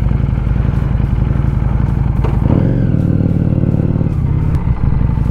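A motorcycle engine starts and settles into a steady running idle downstairs, a continuous low throbbing rumble with clattering mechanical ticks, loud and close with no talk.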